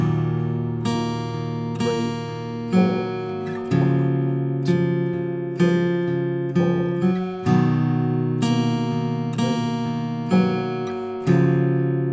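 Acoustic guitar picking a song's intro from tab, steady arpeggiated notes in even bars with accented plucks, close and clear while a voice counts beats over the playing.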